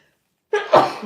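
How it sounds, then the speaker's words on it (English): One loud, close human sneeze bursts out after a moment of silence, with a sharp breathy onset and a brief trailing exhale. "I feel like I'm going to sneeze."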